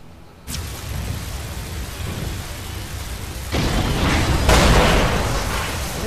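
Laser rifle shots in the Deus Ex: Human Revolution video game, a heavy experimental weapon. A sudden loud burst is followed by sustained roaring beams that swell twice, with no talking.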